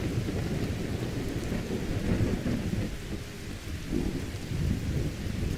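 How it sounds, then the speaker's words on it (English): A thunderstorm with heavy rain in Skyrim Anniversary Edition: a dense, steady roar of rainfall with low thunder rumbling underneath, continuous and fairly loud. "I didn't realize there was a separate VFX for the storms."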